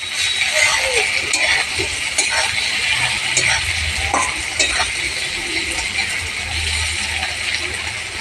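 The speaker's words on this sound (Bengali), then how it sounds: "পেঁয়াজটা আর একটু ভাজা হবে" Onions sizzle steadily in a hot pan, with a spatula scraping and stirring now and then.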